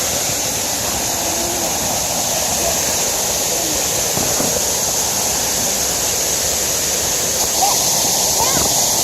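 A waterfall rushes continuously, a loud steady hiss of falling water close by, with faint rustles and small sounds from someone moving through bushes along the stream.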